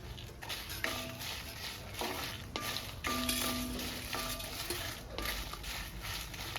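Fenugreek and coriander seeds fry in hot oil in a pan, a steady light sizzle with crackles and the clink of a stirring spoon against the pan at intervals, close and moderately loud, no voices.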